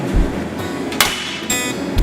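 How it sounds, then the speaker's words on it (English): A hammer strikes a Prince Rupert's drop of tempered glass, giving a few sharp, close knocks spaced about half a second apart over a steady background hiss. "We can actually hit this thing with a hammer and it won't break."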